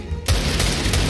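A dense, booming burst of gunfire in a competitive shooter match erupts suddenly after a brief lull, rolling and loud throughout the short moment.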